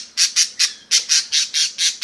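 A pet bird squawks loudly and close, eight sharp, harsh screams in a quick, fairly even rhythm with brief gaps between them, nothing else heard.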